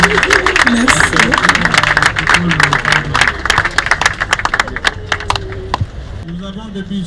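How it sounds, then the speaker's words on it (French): An audience at a memorial service claps steadily, a dense patter of many hands close by with voices mixed in, thinning out toward the end. "Si vous pouvez vous lever et applaudir pour Daniel, s'il vous plaît."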